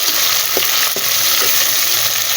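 Minced meat fries in a pan for kachnar qeema, a steady broadband sizzle with a few soft scraping strokes of stirring, close and continuous with no voices.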